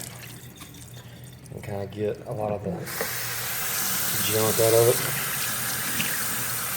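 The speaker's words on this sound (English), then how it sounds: "I usually run this under just a bit of water" Mechanical media from a Fluval Flex aquarium filter is rinsed under a running tap. Someone talks first, then a steady, hissing stream of water pours close by and continues to the end.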